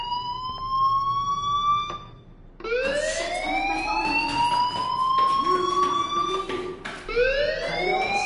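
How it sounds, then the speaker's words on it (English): Wailing alarm from a PS4 video game, rising sweeps with strong harmonics that repeat several times, loud and alone with no talk over it. "Hey, do you hear that fire alarm?"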